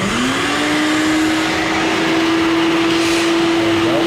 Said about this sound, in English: the next thing we're gonna do is get the vacuum, and we're gonna vacuum out all of this stuff